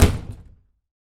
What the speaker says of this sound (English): He exits, but not before slamming the door shut.